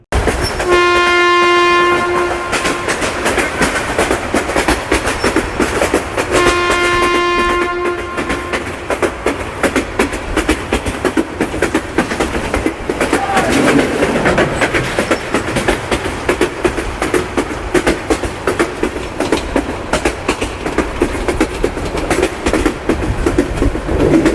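A moving train in Bangladesh roars loudly and continuously with rattling wheels and carriages, and its horn blasts twice near the start, all close by and overwhelming.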